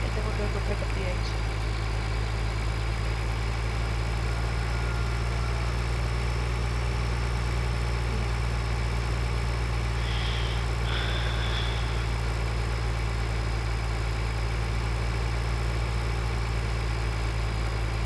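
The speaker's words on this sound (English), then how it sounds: "I'm gonna start this tractor cultivating" A tractor engine idles and runs while cultivating in the Farming Simulator video game, a steady low droning rumble that holds constant and fairly loud throughout, with faint high electronic tones over it.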